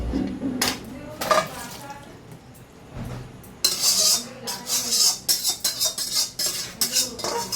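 Metal clinks and scrapes of a pot of kabuli chickpeas cooked with goat fat and garam masala being stirred and lifted off the stove, with clatter of utensils and a voice talking in the background.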